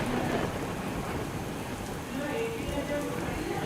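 Heavy rain pours steadily in the Adajan area of Surat, a dense continuous hiss with low rumbling underneath and faint tonal sounds.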